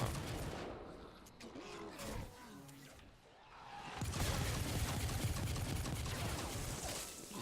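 Pistol gunfire in Fortnite Save the World, rapid bursts of game shots mixed with impact and mechanical effects, growing denser and louder in the second half, with no talking.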